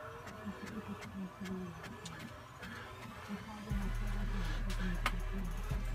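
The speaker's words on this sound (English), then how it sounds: "Now I'm printing a full page photo." An HP Envy 4500 inkjet printer runs a full-page photo print, its mechanism whirring and clicking steadily, then settling into a louder, constant low hum partway through, with no talk over it.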